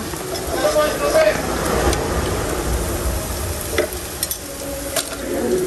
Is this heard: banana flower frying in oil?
yes